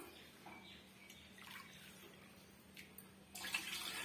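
Hot water being poured into a pan for soft kesari, a faint, steady trickle that swells into a louder, brighter pour near the end, with no talking.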